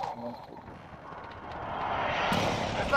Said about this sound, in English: there's somebody in the helicopter